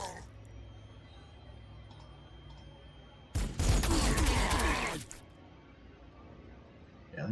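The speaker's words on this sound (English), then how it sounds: "so let's shoot them up a bit" Space Wolves units opening fire in the Warhammer 40,000: Sanctus Reach strategy game, a loud dense burst of gunfire lasting about a second and a half, with quieter game ambience before and after.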